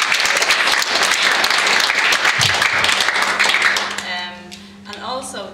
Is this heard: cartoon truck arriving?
no